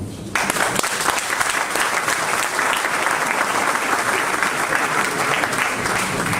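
A live audience at a talk event breaks into steady, dense applause that starts abruptly and holds at full strength, loud and close, with no voices rising above it.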